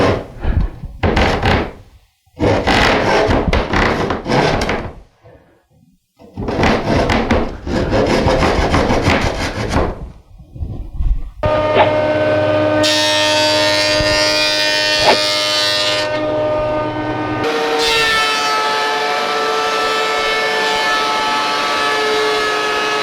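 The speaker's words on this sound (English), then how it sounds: "One side of the cutting board template was traced onto the cutting board stock and cut close to the line at the bandsaw." A bandsaw cuts a wooden cutting board template. It opens with several rasping, sawing bursts broken by pauses, then settles into a steady machine whine and cutting drone for the rest.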